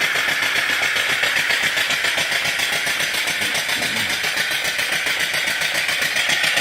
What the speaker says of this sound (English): the oiler is running the engine, oiling the engine.